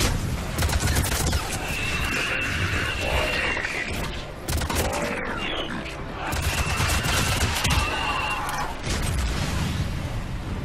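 Missile fire and explosions from the video game Mass Effect 3, a dense, loud barrage of blasts and crackling impacts running almost continuously, with brief tonal whines weaving through the chaos.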